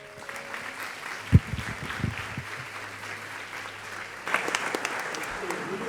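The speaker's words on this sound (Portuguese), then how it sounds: "Aplauda o Senhor, amém?" Applause breaks out at a church youth service, scattered claps building into steady clapping from the congregation, with voices and a loud thump mixed in.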